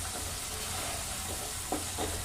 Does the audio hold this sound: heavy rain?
no